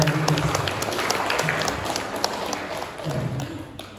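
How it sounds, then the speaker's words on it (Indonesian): An audience at a school talk show claps for everyone in a few seconds of steady, moderately loud applause, with a voice speaking briefly over it. "tepuk tangan untuk semua."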